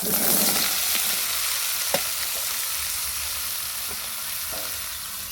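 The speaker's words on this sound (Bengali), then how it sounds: "ভেজে নিচ্ছি এবারে আমি শাকটা দিয়ে দিচ্ছি" Taro greens hit a hot pan and fry with a loud, close sizzle and stirring scrapes, plus a brief clatter near the middle; no voices.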